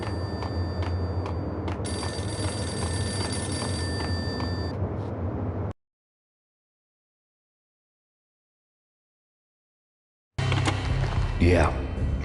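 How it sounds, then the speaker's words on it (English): A payphone rings in the video game Max Payne, a steady electronic bell with a background tone over the first few seconds, then silence before other game sounds return. "The payphone started to ring."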